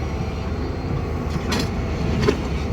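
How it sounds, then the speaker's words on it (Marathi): A goods train pulls away from Parli Vaijnath railway station during track-doubling work, giving a steady, fairly loud low rumble with brief metallic hiss bursts and no voices. "ही मालगाडी निघालेली आहे."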